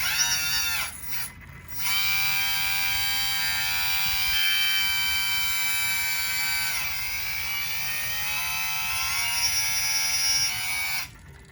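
A servo locks the bucket in place on a Doosan loader, giving a close, buzzing electric whine that runs steadily for several seconds after a brief stutter and then stops.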